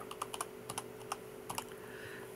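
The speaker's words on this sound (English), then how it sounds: "For some reason, I'm typing terrible today." Computer keyboard typing with irregular clicky keystrokes, some in quick pairs and clusters, close up and alone over a steady low hum.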